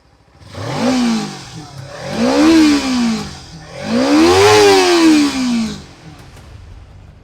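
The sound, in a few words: Kawasaki Ninja 300 parallel twin motorcycle engine revving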